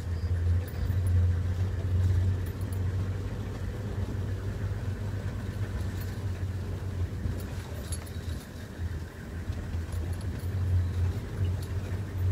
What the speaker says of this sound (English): So I'm going to drive a little closer to those bushes.